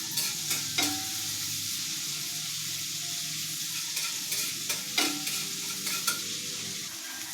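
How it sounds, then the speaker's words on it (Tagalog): Aromatics sauté in a hot pan at the start of a mung bean (monggo) dish. A steady frying sizzle runs throughout, and several sharp scrapes of a spoon stirring against the pan cut through it. "Magigisa na tayo."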